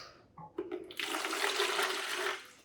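Warm water pours from a tap for a sourdough starter, a steady splashing rush that builds after a few light kitchen knocks and runs near and continuous for about two seconds before easing off.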